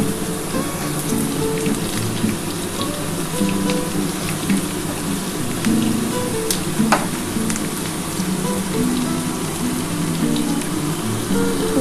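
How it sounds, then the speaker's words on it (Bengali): Potatoes fry in hot oil for a fish curry with eggplant, making a continuous close sizzle and crackle with scattered pops and faint clinks in the background, and no voices. "আলুটা একটু লাল লাল করে ভেজে নিতে হবে কিন্তু"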